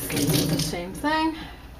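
Tap water runs briefly into a measuring cup, a quarter cup for egg bread dough, a short hissing pour close by with a person speaking alongside.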